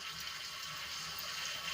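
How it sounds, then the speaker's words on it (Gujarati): Water pours steadily into a cup of medium-sour buttermilk, a continuous soft splashing stream heard close and alone. "અડધો કપ આપણે પાણી એડ કરીશું"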